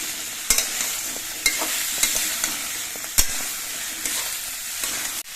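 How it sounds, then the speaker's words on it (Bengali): Papaya pieces sizzle in hot oil in a pan while a spoon stirs them, with several sharp clacks against the pan over a continuous hiss. "এবার পেঁপেগুলো নেড়ে চেড়ে তেলে সঙ্গে মিশিয়ে নিতে হবে"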